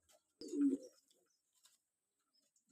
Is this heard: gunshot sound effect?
no